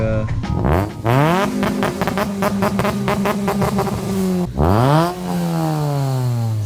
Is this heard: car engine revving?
yes